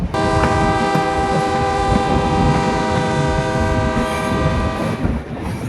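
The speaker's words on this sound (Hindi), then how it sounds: "फाइनली हमारी ट्रेन चल चुकी है, आधे घंटे की हॉल्ट पे।" Indian passenger train pulling away after a half-hour halt, a loud steady rumble of wheels and carriages with a sustained tonal horn-like drone layered over it, continuous throughout with no talk.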